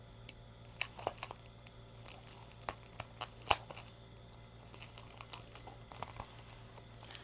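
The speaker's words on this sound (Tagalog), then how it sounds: "Ang satisfying pakinggan yung mga tape pagka ina-unboxing mo yung parcel." Packing tape is peeled and torn off a parcel during unboxing, giving a series of sharp crackling rips and crinkles over several seconds, close to the mic, with no voices.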